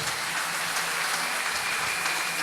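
A church congregation applauding for Jesus at a French-language service, dense continuous clapping filling the room at steady volume with no speech over it.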